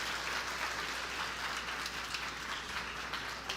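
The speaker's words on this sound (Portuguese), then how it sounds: "Dê um aplauso a Jesus." A church congregation gives a steady, distant round of applause for Jesus, soft and even throughout with no voices on top.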